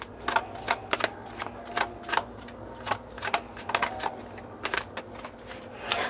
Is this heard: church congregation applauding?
no